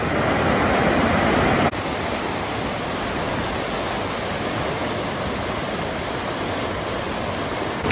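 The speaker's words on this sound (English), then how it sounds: "that rock there and the narrow opening for the river to come through" River rushing through a narrow rock opening, a loud, dense, steady roar of churning water that sounds close by and carries on without pause, with no talking.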